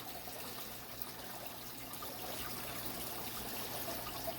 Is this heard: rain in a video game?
no